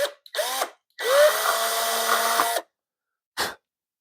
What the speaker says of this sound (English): drill the hole that you're going to be connecting your ball link to on the control horn